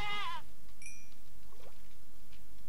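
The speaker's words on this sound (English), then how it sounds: "Why is there a goat just right there?" A goat bleats in Minecraft in one short wavering cry at the start, followed by faint game sounds and quiet clicks.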